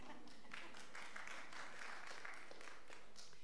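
Congregation applauding during a church service quiz, a continuous patter of many hands clapping in a room, moderately quiet and steady throughout, with no voices over it.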